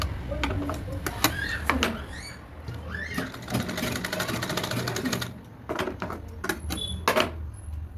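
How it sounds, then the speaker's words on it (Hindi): A sewing machine stitches blouse fabric for a choli in short, rapid bursts of needle clatter, pausing and restarting several times, close and clear. "तो मशीन को लेते हुए इसका एक तिरछा सा डॉट डालेंगे"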